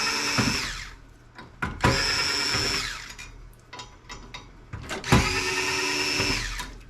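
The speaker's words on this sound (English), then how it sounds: "get all these screws out" Cordless electric screwdriver backing screws out of a Denon receiver's metal chassis, in three whirring bursts with short pauses between them, close and loud.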